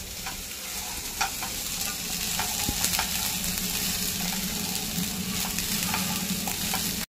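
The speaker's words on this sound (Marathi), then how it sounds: "बघा, लसूण आलं मस्त फ्राय होत आहे" Garlic, ginger and peas fry in a pan with a steady, close sizzle throughout. Occasional light scrapes of stirring break through the sizzle.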